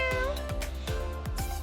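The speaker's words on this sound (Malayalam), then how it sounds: "പൂച്ച" A cat in a home garden in the UAE meows repeatedly, several short, close, rising-and-falling cries in quick succession with no talking over them.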